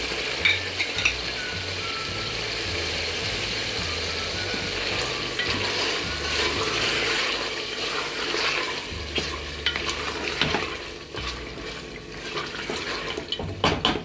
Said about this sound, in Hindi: अब थोड़ी देर इनको मैं अच्छी तरह फ्राई कर लूँगी